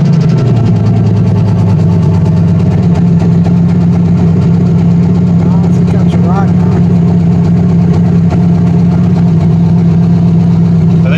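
A turbocharged car engine idles steadily with a low, even rumble and a faint vibration running through it, while people talk over it.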